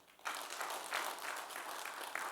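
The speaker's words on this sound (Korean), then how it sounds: "그래서 나는 일단 아담을 위해서 박수 한번 쳐주세요." Audience applause at a pastors' wives spirituality seminar, a steady wash of many hands clapping that starts abruptly and holds at a moderate, fairly distant level throughout.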